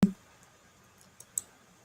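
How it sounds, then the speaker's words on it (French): A single sharp computer mouse click lands right at the start, close and crisp, followed by faint scattered clicks in a quiet room. "Alors, on clique ici pour configurer."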